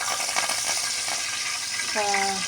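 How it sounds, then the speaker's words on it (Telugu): Curry leaves sizzle and crackle in hot oil for a sambar tempering, a steady close hiss throughout, with a brief rising tonal squeal near the end. "నూనె అయితే కాగిపోయింది ముందుగా అయితే కరివేపాకు వేసుకుంటున్నాను"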